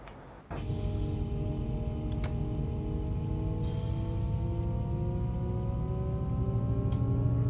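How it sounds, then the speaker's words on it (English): Diesel engines of a DB BR 612 tilting multiple unit in Train Sim World 2 rev up and accelerate, a loud steady drone with rising harmonic whine after a sudden start, a few faint clicks over it. "Oh, I do like the sound of those engines."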